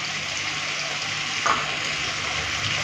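Turmeric, salt, Kashmiri red chilli powder and tomato sautéing together in a pan for a fish curry: a dense, continuous close sizzle of frying with a brief stir bump midway and no voices.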